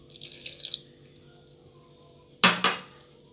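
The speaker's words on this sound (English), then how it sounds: "And now we add the cold water, just a little bit." Cold water poured into a hummus mixture in a kitchen, a short splashing pour at the start followed by two sharp clinks of a utensil against a container, close and clear.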